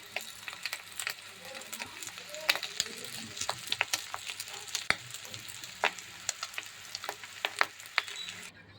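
Fish roe fritters frying in hot oil give a steady, moderately loud sizzle with dense crackles and pops throughout, and no one speaks.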